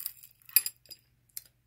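A two-strand necklace of glass and metal beads with stones clinks in small sparse bursts, a few light close jingles separated by silence, with no talk over them.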